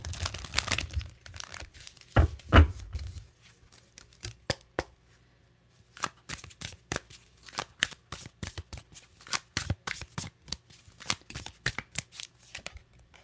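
A deck of Mystic Midnight Tarot cards is shuffled by hand, with bursts of riffling and crisp card slaps in irregular runs, close and fairly quiet, separated by brief pauses.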